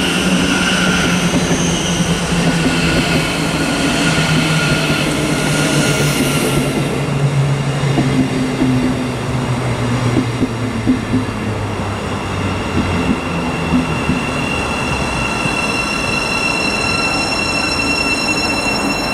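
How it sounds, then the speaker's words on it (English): A Thameslink Class 700 electric train arriving at Stevenage station on the East Coast Main Line: a loud, steady roar of wheels on rails with high, sustained brake and wheel squeal and tonal motor whine close by. "arriving now is a 1203 Thameslink service to Cambridge"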